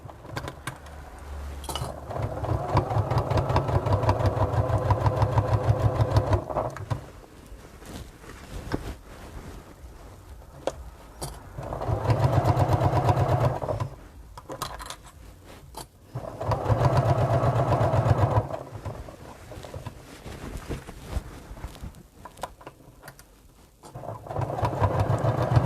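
A domestic sewing machine stitching a fabric tote bag, running in several bursts of rapid, steady whirring stitches separated by quieter pauses with small handling noises.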